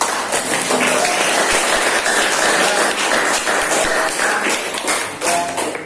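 Applause and scattered clapping from students in a high school economics classroom, a dense steady patter of hand claps filling the room for several seconds with some voices mixed in.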